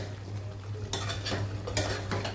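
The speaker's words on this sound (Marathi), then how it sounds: "आता हे आपण असं परतून घेऊया व्यवस्थित." Shark fish masala with kokum being stir-fried in a pan, with close scraping and clinking of a spatula against metal over a soft sizzle, in short strokes.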